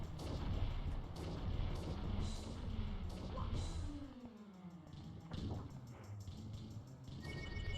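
Cannons firing cannonballs in the platform game Peach's Other Castle, heavy booming blasts over a continuous rumbling backdrop of game noise, with a descending whistle in the middle.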